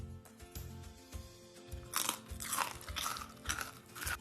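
Crisp crunching bites of a homemade rice cracker, several loud crackly crunches in quick succession, close up with no talking.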